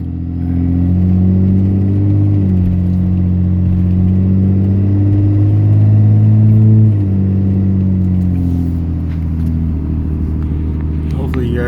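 A 2014 Cummins 6.7 diesel pickup with straight-pipe exhaust, Anarchy tune and 3.73 gears rumbles loud and deep while driving, the drone climbing and dropping as it shifts through gears, with someone talking over it.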